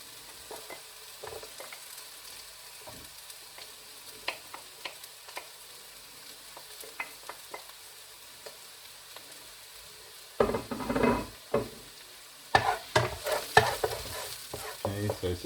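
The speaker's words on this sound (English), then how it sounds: "Now we'll get our garlic in there." Garlic and onions frying in a pan for shakshuka, a soft, steady sizzle broken by scattered scraping stirs, turning louder and busier toward the end, heard close up with no talking.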